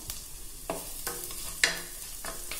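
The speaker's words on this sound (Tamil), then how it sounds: "பூண்டு சேர்த்து ஒரு வதக்கு வதக்கிட்டு" Garlic sautéing over high heat in a pan for a barley vegetable soup, with a steady soft sizzle and a few sharp scrapes of a stirring spoon against the pan, no voices.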